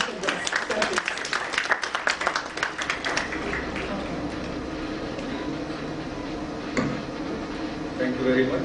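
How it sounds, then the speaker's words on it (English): A conference hall audience applauds to welcome the chief guest at a small-business conclave, a dense burst of clapping that thins out over several seconds while a voice speaks over it. "Please welcome him with a round of applause"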